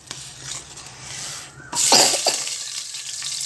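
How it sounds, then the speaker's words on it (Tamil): Mustard seeds, fenugreek and dried chillies hit hot oil and burst into a sudden loud sizzle with a few sharp pops, then settle into a steady hiss, close and without talking. "இப்போ கடுகு, வெந்தயம், காஞ்ச மிளகாய் போட்டுக்கிறேன்."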